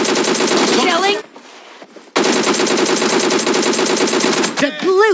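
Rapid automatic gunfire from the BGMI battle royale game, loud bursts of machine-gun fire with a short pause midway, sounding close over game sound effects.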